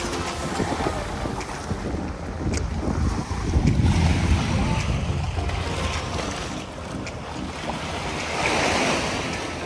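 Heavy surf crashes and rolls continuously, a loud churning wash of ocean waves with wind buffeting the microphone.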